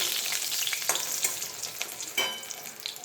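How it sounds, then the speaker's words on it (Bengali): Steady crackling sizzle of eggplant slices frying in hot oil, with a few sharper pops and spatters rising out of the constant hiss. "এদিকে আমার বেগুনগুলো ভাজা হয়ে গেছে, এবার বেগুনগুলোকে"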